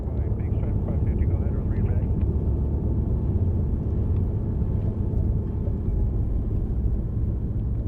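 Beech 18 twin radial engines roar steadily at full power during the takeoff roll, a loud, dense, unbroken rumble filling the whole stretch, with talk faintly underneath.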